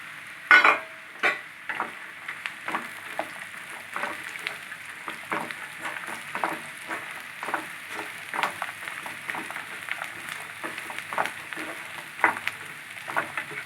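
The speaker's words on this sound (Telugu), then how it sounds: "పూల్ మకానా ఆయిల్లో కొంచెం ఫ్రై చేసుకోవాలి" Phool makhana (fox nuts) frying in oil for a hotel-style curry, with a steady soft sizzle broken by frequent sharp stirring scrapes and clinks of a spoon against the pan, close and moderately loud.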